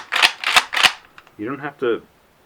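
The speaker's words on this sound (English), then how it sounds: "You just use the little action release like you're supposed to, and you can rack it." A pump-action shotgun is racked with three sharp, loud metallic clacks in quick succession, followed by a brief stretch of someone speaking.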